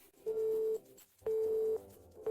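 A telephone busy signal sounds after a call is hung up: a steady mid-pitched tone beeping in regular half-second bursts with short gaps, clear and alone.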